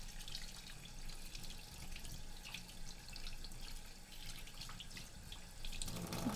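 Cleaned Bengali koi fish rinsed under a running kitchen tap, a steady close splash of water with brief dripping, the flow growing louder near the end.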